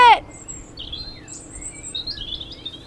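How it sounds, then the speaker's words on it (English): Several small birds chirp and tweet in bright high bursts around a narrowboat on an English canal, a sharp call at the start followed by scattered, fairly faint chirps over a quiet background. "the birds are chirping"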